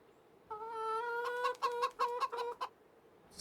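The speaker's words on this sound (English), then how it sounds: "Oh no, I'm in the chickens. Don't touch me, chickens." Chickens cluck in Farming Simulator 25, a sustained hen call followed by a rapid run of choppy clucks, fairly close and clear with no talk over them.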